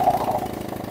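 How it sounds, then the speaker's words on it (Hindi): A motorcycle engine idles with its exhaust silencer removed, giving a close, regular low chugging pulse after a brief initial rev. "बाइक को स्टार्ट कर लिए, अब देखिए"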